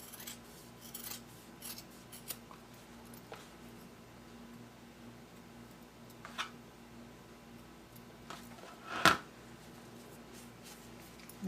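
Quiet scissor snips trimming layered fabric and batting for a small sewn wallet. The cuts come sparse and irregular with faint rubbing between them, and one sharper clip stands out near the end.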